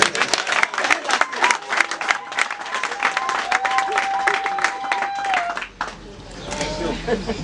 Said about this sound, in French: Applaudissez pour Sergine.